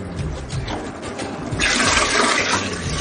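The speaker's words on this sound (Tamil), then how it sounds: "தண்ணி ஊத்த போறேன்." Water gushes and splashes steadily into a cooking pot for biryani, starting after a brief quieter moment and continuing loud and close.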